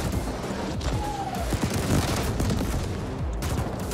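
Sustained energy weapon fire and blasts rattle through a fight against a large robot in the sci-fi action game The Ascent, dense and loud with overlapping shots and impacts throughout.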